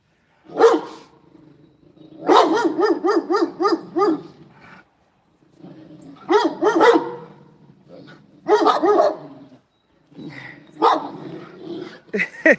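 Several dogs bark from up on a rooftop in repeated bursts of rapid, sharp woofs, with short pauses between volleys, fairly loud and close to the street.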